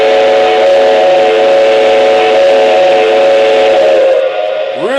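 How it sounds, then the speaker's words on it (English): A steam locomotive whistle blows loud and sustained with a rich chord of tones, then fades with a falling tail at the end. "Here's your whistle."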